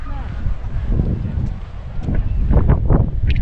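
Wind gusting across a GoPro Max microphone outdoors near a forest bonfire, a steady low rumble and buffeting that swells louder toward the end, with a voice talking over it.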